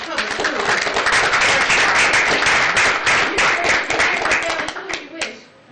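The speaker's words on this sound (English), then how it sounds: "I think we need to clap because it's just public school." An audience claps together at a city council meeting, a dense, loud burst of applause that holds steady for several seconds, then thins out and fades near the end.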